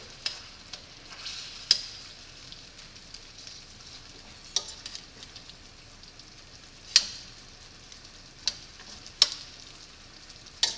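Shrimp cooking in a pan for shrimp and grits, a soft steady sizzle with occasional sharp clicks and pops from the pan, no voices.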